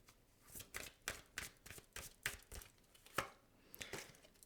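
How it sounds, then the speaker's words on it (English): A deck of tarot cards is shuffled by hand, giving a string of quick, crisp riffling bursts at a fairly even rhythm, close up and fairly quiet. "I want to shuffle"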